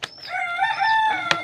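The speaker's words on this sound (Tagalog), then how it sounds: "Kakaibang manok yun." An old rooster crows once, a clear, drawn-out call close by, ending with a short sharp noise.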